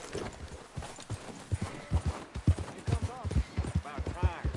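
Horse hooves clip-clop steadily in Red Dead Redemption 2, a close, even trot of hoofbeats running through the whole stretch while voices talk over it.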